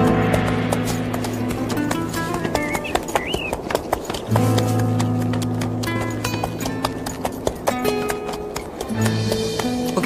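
A horse out on a walk clops its hooves in a steady, close rhythm, with a few loud sharp strikes over a layered background bed and no talking.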